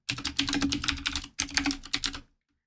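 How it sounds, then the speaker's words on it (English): Rapid, continuous keystrokes on a computer keyboard during a Godot game-coding session, close and clear with no talking, with a brief pause midway before the typing stops near the end. "I'm going to be silent during typing because I know some of you like the sound of my keyboard"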